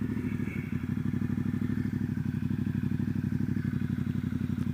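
Triumph Rocket 3 motorcycle engine running hard during a drag race, a loud, steady, rapidly pulsing low exhaust drone throughout with light clatter, no speech.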